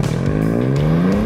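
Ford Fiesta ST sports hatchback with a three-cylinder EcoBoost engine making 200 PS, revving loud and close with a steadily rising engine note and no talk.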